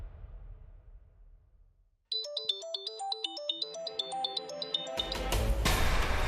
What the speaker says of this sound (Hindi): अंश का फोन।